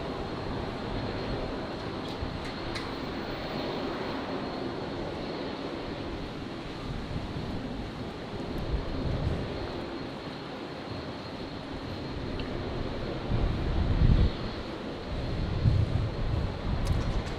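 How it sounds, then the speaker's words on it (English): Qantas airliner in 1959 retro livery touching down at Brisbane at night after a flight from Sydney, a distant steady jet roar and rumble that swells slightly toward the end. "retro Roo, 1959 Qantas livery. Qantas 554, touching down from Sydney."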